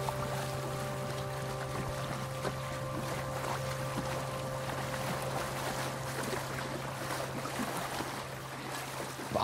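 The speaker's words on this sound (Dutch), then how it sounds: "je hoort de boten, de duwbakken voorbij gaan." Steady engine drone and a low, constant hum of push barges and boats passing on a river, with water wash throughout, heard continuously with no voices.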